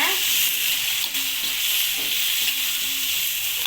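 Cut bottle gourd pieces are stirred in a frying pan, giving a steady loud sizzle with soft scraping stir sounds running through it.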